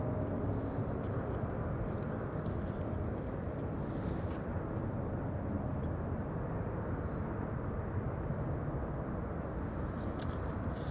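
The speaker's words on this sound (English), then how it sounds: "That's an A321neo." An Airbus A321neo airliner arriving at Amsterdam Schiphol Airport sends a steady, loud engine roar across the whole stretch, with faint clicks and a few quiet voices in the background.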